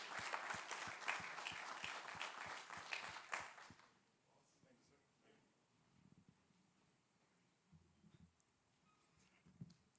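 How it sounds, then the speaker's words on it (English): A church audience gives a round of applause for a newly promoted police lieutenant from the Willingboro Township Police. Brisk group clapping lasts about four seconds, then fades to quiet room noise with faint movement. "let's give him all a round of applause"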